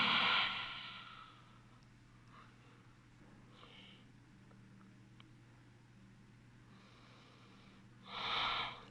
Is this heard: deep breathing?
yes